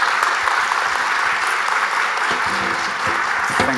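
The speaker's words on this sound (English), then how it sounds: "let's give Gina and Corinne a big round of applause" An audience at a partnership celebration gives loud, sustained applause that runs unbroken through the whole clip, dense clapping close and full.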